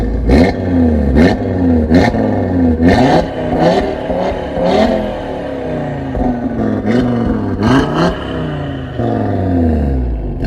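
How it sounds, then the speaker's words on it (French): A 510-horsepower Audi RS3 revs hard through its exhaust in a series of sharp, loud bursts that rise and fall, each blip roaring close by with no one speaking. "Vous allez voir le son à l'échappement et l'essai, ça va vraiment, vraiment vous plaire"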